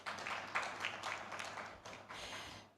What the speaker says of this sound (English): Put up your hands and we clap for you.